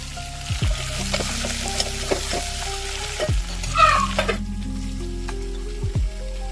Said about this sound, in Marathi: पूर्ण जे आहेत ना भाजीपाला कट करून ठेवता मी ते तेलामध्ये आता इथं छान वाफवून घेणार आहे.